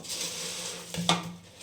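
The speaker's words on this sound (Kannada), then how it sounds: "ಹಾಕ್ಕೊಂಡು ಮಿಕ್ಸ್ ಮಾಡ್ಕೊಳ್ಳೋಣ" A spoon stirs bhel puri with sweet tamarind-jaggery chutney in a bowl, a soft scraping mix punctuated by a couple of sharp metallic clinks against the dish, close and fairly quiet.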